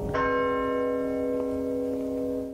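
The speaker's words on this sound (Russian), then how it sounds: "Если 5 часов, значит 5 ударов колокола будет." A single deep church bell strikes the hour loudly, its rich tone ringing on and slowly decaying, with a faint second touch partway through.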